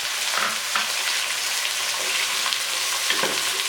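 Tinda pieces and green chilies frying in hot oil make a loud, dense bubbling sizzle that stays constant, with occasional soft stirring taps underneath.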